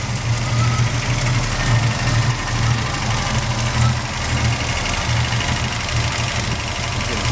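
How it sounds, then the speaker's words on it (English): A dually pickup truck idles steadily while its air-conditioning compressor runs, giving a constant loud engine drone with a low, pulsing hum and no speech over it. "You can hear that compressor"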